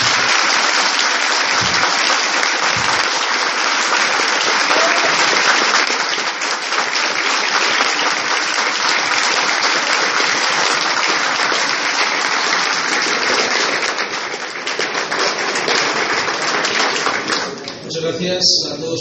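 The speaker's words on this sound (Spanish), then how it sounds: "al cual recibimos un aplauso grande y fuerte" Large audience in a university auditorium breaking into loud sustained applause, a dense roar of many hands clapping that carries on steadily for the whole stretch, fading slightly at the end.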